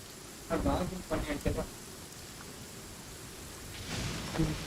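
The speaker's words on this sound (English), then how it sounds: "Quite a downpour." Rain and thunder in Genshin Impact during a downpour in Liyue: a steady hiss of rain under a few rumbling thunder bursts, then a swelling rumble near the end.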